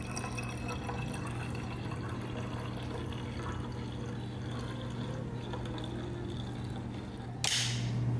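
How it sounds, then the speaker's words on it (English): Cleaning formula is poured into the tank of a Bissell Crosswave PetPro floor cleaner as a steady, close liquid stream over a low hum, ending in a sharp click. "then we're gonna fill up that much with formula"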